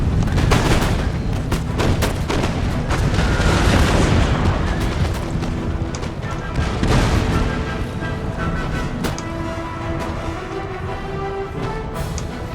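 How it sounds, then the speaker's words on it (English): Artillery fire in Empire: Total War, the game, with repeated loud booming cannon blasts and crackling volleys rolling over a dense battle din for the whole stretch, no talk heard. "Oh, looks like they got some more artillery."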